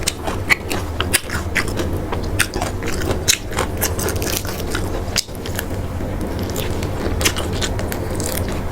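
Crunchy, crispy food with hard bones chewed up close, a steady stream of loud crackling bites and grinding crunches with sharper snaps scattered throughout, no talk.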